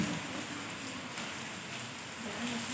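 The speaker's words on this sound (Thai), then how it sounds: "ฝนก็ไม่ได้ตกแรงมากนะครับ" Light rain falls steadily at a Buddhist temple cloister in Thailand, a soft, even hiss with no voices and nothing else standing out.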